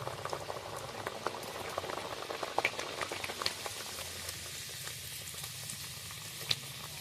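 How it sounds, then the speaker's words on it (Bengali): Puris deep-frying in hot oil, a steady dense bubbling and crackling sizzle that runs throughout at close range, with a few sharper pops standing out. "এখনো আমাদের পুরি ভাজা চলছে।"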